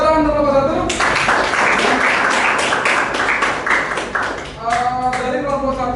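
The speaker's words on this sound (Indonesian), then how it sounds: "Oke, tepuk tangan untuk kelompok" A classroom audience claps for a student group after its presentation: a few seconds of dense, close, steady clapping, with a voice speaking just before and after.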